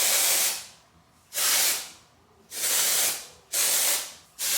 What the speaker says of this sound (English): And I just go underneath my hair and spray it upward.